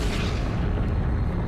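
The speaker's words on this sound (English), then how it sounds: "A massive but short-lived star exploded as a supernova." Low, rumbling roar of a massive, short-lived star exploding as a supernova, a dense deep boom sustained across the whole moment without a sharp attack, loud and close.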